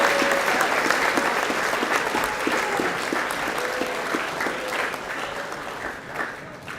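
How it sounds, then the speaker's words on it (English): A school audience at the Western Heights High co-curricular prize giving applauds in a steady, dense round of clapping that holds for several seconds and slowly tapers, with no speech over it. "Round of applause."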